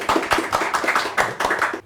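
Brief round of hand clapping from a small group on a Sundanese podcast set, quick uneven claps in a short burst lasting under two seconds.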